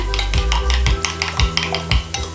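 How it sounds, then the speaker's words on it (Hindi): A spoon whisking raita mixture in a bowl, a loud, rhythmic run of quick scraping and tapping strokes at close range, with no voices. "ऐसे मिक्स कर लें, अच्छी तरह से फेंट लें"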